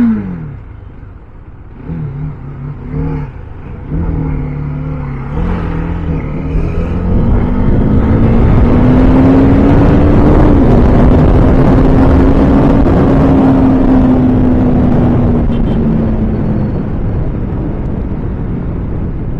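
A motorbike ridden along a road through traffic: the engine drones steadily, its pitch climbing and holding as the bike accelerates, with a wide roar of road and wind noise building throughout. No one speaks.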